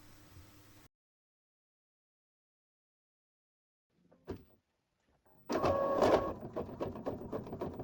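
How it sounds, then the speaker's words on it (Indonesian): A printer making double-sided prints: after a brief hum and silence, a short mechanical click, then a louder whirring feed with rapid repeated clattering of the mechanism, close by. "Maka yang akan dihasilkan adalah print dua sisi atau bolak-balik."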